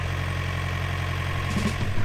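A small sailboat's auxiliary motor runs steadily after a repair near St. John, a continuous low idling drone with faint vibration, close and loud, with no talking.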